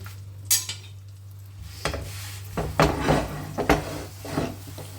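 A methi paratha fries softly in ghee or butter over low heat while a spatula presses it around the pan, with faint sizzle, a low steady hum and scattered light scrapes and taps.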